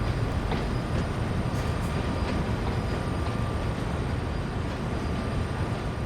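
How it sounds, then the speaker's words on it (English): Class 66 diesel locomotive hauling gravel-filled hopper wagons in the Train Sim World 2 simulator, a steady heavy rumble and engine drone holding evenly at close range, with a faint high whine above it. "So this is what the Class 66 looks like, and sounds like."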